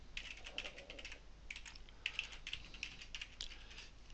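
Keys clatter on a computer keyboard while a form gets filled in, a quiet, uneven run of soft clicks and taps in irregular bursts with short pauses, no voices.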